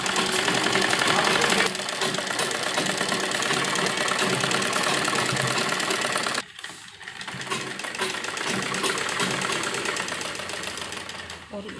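A sewing machine stitching fabric for a lined A-line palazzo, a loud rapid mechanical clatter that runs steadily, pauses briefly, then resumes, with a voice speaking at times over it.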